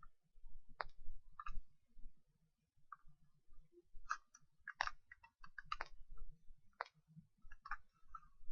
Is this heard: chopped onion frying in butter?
no